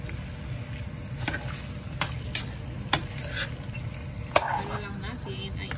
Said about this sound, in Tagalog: i-fry lang natin na ganito guys hanggang ano siya, maluto, hanggang magmantika guys